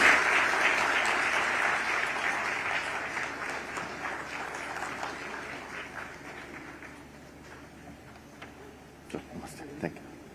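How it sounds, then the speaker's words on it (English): An audience applauding at a live yoga conversation event held at the Conrad, a sustained round of clapping that starts full and gradually fades away, ending in a few scattered final claps. "A louder round of applause."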